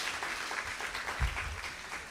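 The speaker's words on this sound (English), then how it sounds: "I think he deserves another round of applause" Audience applause for a performer at a memorial lecture evening, a steady wash of clapping from a seated crowd with a few louder low bumps near the end, no voices over it.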